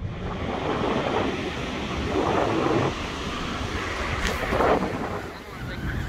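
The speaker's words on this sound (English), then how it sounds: "There's also a lot of wind on the island" Strong wind on a beach island sweeps across the microphone in a steady broadband roar with gusty swells. Someone talks over it the whole time.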